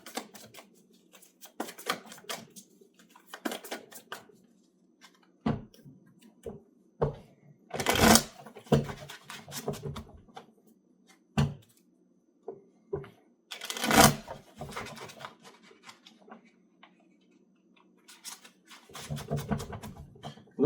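Tarot cards being shuffled by hand during a reading, with repeated crisp riffling bursts and soft card slaps, fairly close and clear, with brief pauses between shuffles and no talking.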